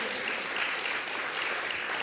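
A book-talk audience claps steadily for a couple of seconds, a dense, even patter of hands at moderate distance with no voices over it.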